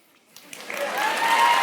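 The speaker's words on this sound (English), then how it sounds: "Wait for audience to applaud." Applause from an audience at a live show, starting faintly and swelling into steady, fairly loud clapping with a few cheers.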